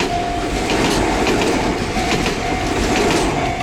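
A new-type Enoden electric train passes close by, its steady rumble and rhythmic clickety-clack of wheels on rail joints filling the whole stretch with no talk.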